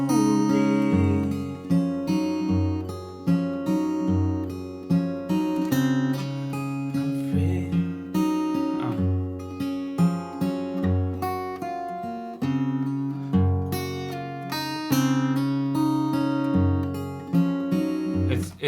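Guitar playing two riffs back to back at a slow tempo, dense strummed and picked chords with a steady rhythmic pulse, loud and close with no talking over it.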